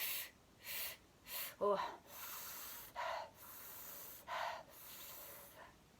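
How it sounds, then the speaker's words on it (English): Straw breath is drawn in through a curled tongue, a series of soft, close hissing inhalations repeated at a steady rhythm with short pauses between them. A brief voiced exclamation breaks in once. "If you can't, you just do straw breath like this. And you pull the breath in like this."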